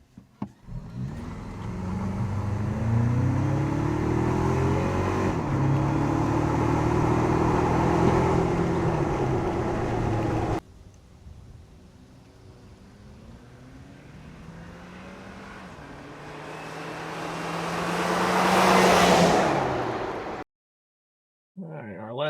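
A stock-intake fourth-generation Toyota Tacoma engine runs through several separate takes: sustained revving with rising and falling pitch, a quieter idle stretch, then a climbing rev to a loud peak before cutting off.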